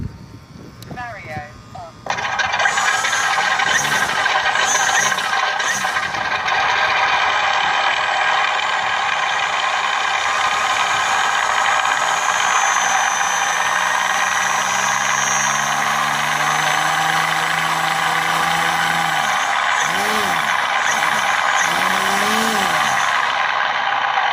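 An electronic engine sound kit set to its third sound mode, fitted to a vehicle, plays a loud continuous synthetic engine roar with revving swells toward the end, holding steady at close range after a brief quieter start.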